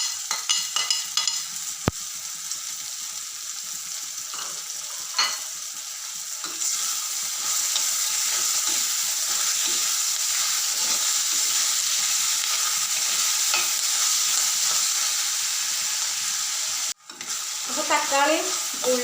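Ginger, garlic, onion and tomato sizzle steadily in a hot pan for a Kerala-style fish curry, with occasional stirring scrapes and spoon taps over a continuous frying hiss, close and fairly loud.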